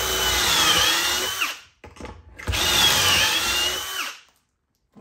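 A power drill boring pocket holes in two loud, whining bursts, each about two seconds long with a short gap between, with the motor pitch dipping under load and winding down at the end.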